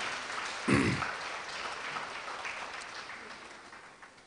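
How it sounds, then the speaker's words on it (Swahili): An audience at a South Africa–Tanzania cultural season event rises to give a steady, soft, distant wash of applause to the official guest, gradually tapering off. "Tusimame tena tumpe makofi mengi mgeni wetu rasmi."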